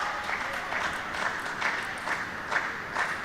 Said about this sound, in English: We hope you can hear the crowd back home watching this on whatever screen you're watching it on.